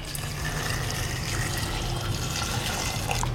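Water pours into a pressure cooker over about a kilogram of cut guava pieces, a steady, loud rushing stream filling the pot without pause.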